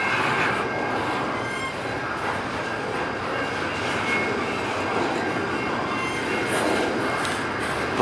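A long Norfolk Southern freight train rumbles steadily past close by, with a continuous roar of wheels on rails and faint metallic squeals.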